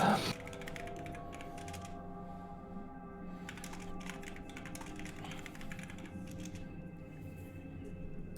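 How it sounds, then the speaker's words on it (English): Rapid clattering keystrokes on a computer keyboard, continuous and close, in bursts with brief pauses, over a low steady background hum. "I'm typing it up"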